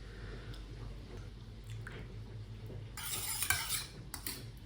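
Dumpling dipping sauce of rice vinegar, sesame oil and sugar being stirred in a small dish, with quiet clinks of a spoon against the bowl and a brief louder burst of stirring and scraping near the end.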